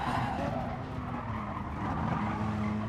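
Race car in a racing video game overshooting its braking zone, with a steady engine drone and sustained tire skid running continuously for about three seconds, close and fairly loud.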